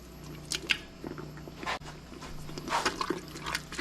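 Crushed tomatoes and tomato soup being stirred together in a pot for homemade chili, a soft wet squishing and sloshing that comes in short bursts, close and fairly quiet, with no talking.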